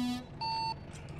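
Electronic beeps in the American Truck Simulator multiplayer driving game, a short tone followed by a steady sustained beep lasting about a third of a second, clear and fairly loud with no talking.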